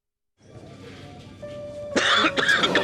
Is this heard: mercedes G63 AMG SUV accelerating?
no